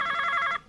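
A telephone rings with a short, bright electronic trill that holds steady and then cuts off abruptly, heard alone without voices.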